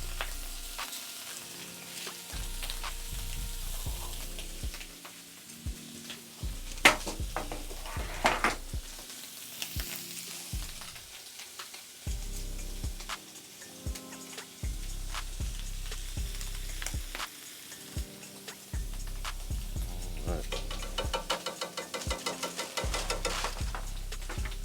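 Split shrimp frying in a pan for creamy shrimp scampi give a steady low sizzle, with scattered ticks and spatters and an intermittent low hum from the stove, quiet and close, with no voices.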